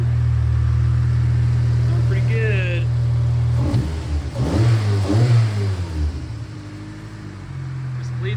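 A project car's engine runs steadily near the microphone and revs up and down a few times in the middle, with a faint whine now and then.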